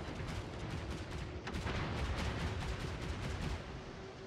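Rapid gunfire and explosions from an air attack in a naval combat video game, a dense continuous barrage of shots and blasts that stays loud throughout with no talk.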